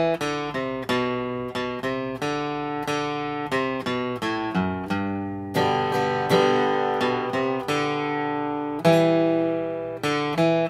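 Flat-picked acoustic guitar plays the B section of the fiddle tune Over the Waterfall, a steady run of bright, clearly separated picked notes in an even rhythm, close and solo without any voice.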